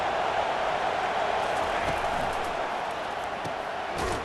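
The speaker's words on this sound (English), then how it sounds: "This crowd bringing the energy and noise early." Stadium crowd noise from the EA Sports College Football 25 video game, a continuous loud roar of many voices with faint cheers rising and falling, sustained throughout without pause.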